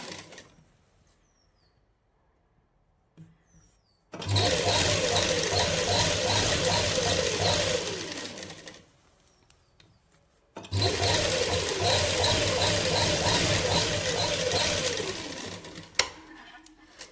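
A sewing machine stitches a salwar in two long, loud, steady runs of rapid mechanical whirring, separated by a quiet pause with brief handling sounds and faint talk.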